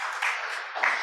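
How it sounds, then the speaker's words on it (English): An audience applauds at the final event of an open-science conference after a session talk: a steady, moderately loud wash of clapping hands that swells slightly near the end, with no voices over it. "A round of applause."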